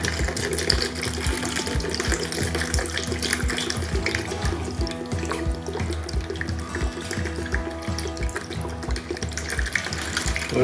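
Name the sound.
pouring about half a litre of vinegar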